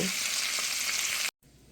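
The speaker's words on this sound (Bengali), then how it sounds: "আমি সালমনের সাথে কিছু অ্যাসপ্রা গাছ আর হ্যালোপিনো এটা সেলো ফ্রাই করে নেব" Salmon with asparagus and jalapeño peppers shallow frying in a pan, a loud steady broadband sizzle that cuts off abruptly near the end, leaving only a faint low hiss.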